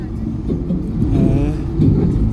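A vehicle, an auto-rickshaw on a trip near Nathu La Pass on the China border, drives away with a steady mid-pitched engine hum that swells slightly as it pulls off, heard from inside.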